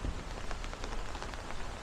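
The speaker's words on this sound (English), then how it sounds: "it is really raining now" Heavy rain pours steadily on a street in Midwood, Brooklyn, a dense, even hiss of drops drumming on surfaces, with no voices.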